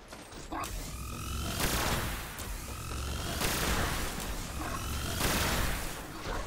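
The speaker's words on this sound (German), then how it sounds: "Ich kann halt den Karl-Heinz da mit einem Schuss das Schild wegballern." Rapid bursts of gunfire in Destiny, a video game, with mechanical clanks and booms, repeated several times in quick succession.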